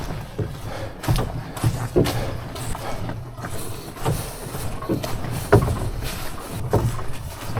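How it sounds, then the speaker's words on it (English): Canoe paddling across Casey Lake in Algonquin Park, with soft, irregular paddle strokes and water splashes recurring every second or so over steady outdoor wind noise, fairly close and moderate in level, with no talking. "Paddling across Casey Lake, portage for Daisy Lake."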